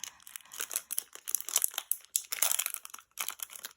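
Crinkly crumpling and rustling of a darker foil fusion sheet being handled for a Santa shaker craft tag, close and continuous with short pauses, no talking.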